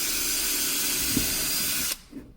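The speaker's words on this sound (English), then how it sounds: "drill a hole somewhere there" A power drill bores a hole in a car door panel while a door speaker is being fitted in a 2014 VW Tiguan, a steady loud whirring hiss that stops abruptly near the end, followed by a faint clunk.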